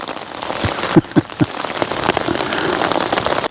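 Stormy rain falls on a tent or camping gear on Dartmoor, a steady close patter and hiss broken by a few heavy drops or knocks early on.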